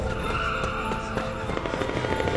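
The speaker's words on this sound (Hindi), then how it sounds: "तभी उसे दूर से आती गाड़ियों की तेज आवाज सुनाई देती है।" Cars race along a road near a railway track in a movie chase scene, a continuous loud rush of engines and skidding tires with squealing edges filling the whole moment, and no voices.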